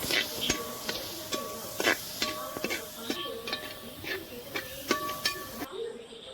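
Coriander powder roasting in a pan for liver roast, with rhythmic scraping and tapping of a spoon stirring over a soft sizzle, close and fairly quiet.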